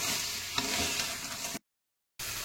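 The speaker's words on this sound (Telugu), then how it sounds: "ఈ ముక్క క్రాబ్స్కి మసాలా అంతా బాగా పట్టినట్టు చక్కగా వేయించుకోవాలి" Crab pieces fry in masala for a crab curry, a steady close sizzle with a few stirring scrapes, cut by a short silent gap before the frying resumes.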